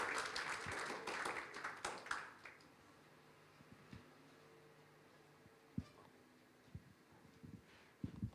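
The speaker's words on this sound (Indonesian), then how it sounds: "Tepuk tangan bagi nama Tuhan" Applause from a church congregation during an evening worship service, a burst of clapping for the first two seconds that quickly fades into quiet room tone with a few scattered thumps.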